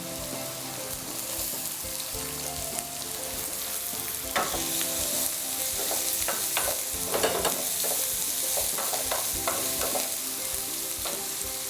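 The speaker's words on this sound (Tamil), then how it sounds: "ஆனியன் நல்லா ரோஸ்ட் ஆகட்டும்." Onion, ginger and green chilli roasting in a pan for Multani paneer tikka give a steady close sizzle throughout, with sharp crackles and spatula scrapes growing busier midway.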